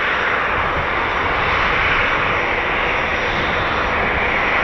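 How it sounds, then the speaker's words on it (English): Engines of a Boeing P-8 Poseidon maritime patrol aircraft at an RAF base in the far north, a loud, steady roar that holds without a break from start to finish, with no voices. "So we got ourselves a P-8 Poseidon."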